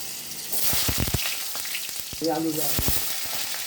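Potato and pumpkin pieces with chillies dropped into hot oil, a loud close sizzle with clattering knocks and stirring, plus a brief faint tonal sound partway through.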